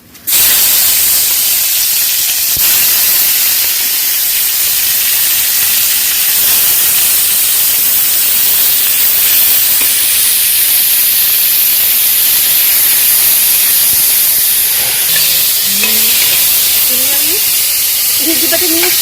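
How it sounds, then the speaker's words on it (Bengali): Tomatoes frying in hot oil with panch phoron and dried chilli for a raw mango chutney give a loud, steady sizzling hiss that fills the whole clip, with brief clatter near the end. "তো এর মধ্যে এবার টমেটোগুলো আগে দিয়ে দেবো।"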